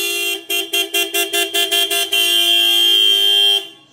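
A loud two-tone dual car horn on a Renault Kwid sounds close up: a burst of rapid short toots, then one long sustained blast that cuts off.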